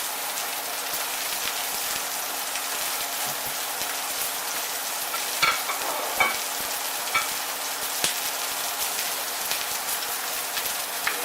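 A New York strip steak sears in a cast iron skillet, a steady dense sizzle and crackle with occasional louder pops, close and continuous with no talking.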